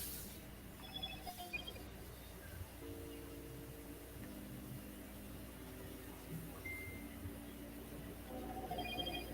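A phone rings with steady electronic tones held over a low hum, with brighter chirps near the start and the end, fairly close and with no talk over it.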